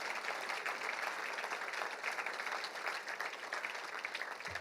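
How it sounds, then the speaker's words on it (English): An audience applauds the Ferris State University football team at its 2024 national championship ring ceremony, a steady, dense wash of clapping that holds at even loudness for several seconds, with no voices on top. "So give them a round of applause."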